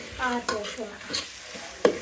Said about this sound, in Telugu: ఉల్లిగడ్డ టమాటా వేయిస్తున్నాం